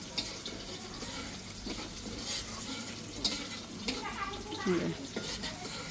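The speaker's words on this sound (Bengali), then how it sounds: "এই মশলাটা কষাই নিতেছে" Mustard spice paste for hilsa being sautéed and stirred in a pan, with steady frying sizzle and scraping stir strokes, some water splashing, close and continuous under a quiet kitchen background.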